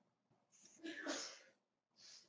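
A single close sneeze with a sharp breathy burst, followed by a short breathy exhale.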